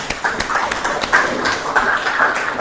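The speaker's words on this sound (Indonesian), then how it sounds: "Kasih aplaus nak untuk kawannya." A group of students claps for a classmate after a group presentation in a classroom, giving a short burst of brisk, moderately loud applause.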